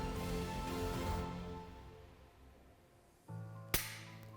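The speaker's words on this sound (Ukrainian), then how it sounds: "спусти затворну затримку вниз, спуск, контрольний спуск" A pistol's slide stop is released and a dry-fire trigger pull follows during shooting instruction, one solid metallic clack, a pause, then a sharp single snap, close and isolated against a quiet room.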